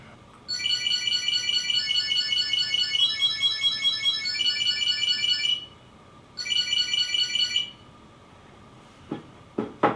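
A Chipolo Bluetooth tracker alarm rings loudly, about 98 decibels, with shrill electronic beeping in rapid warbling bursts, pauses briefly, then resumes, followed by a few clicks and knocks.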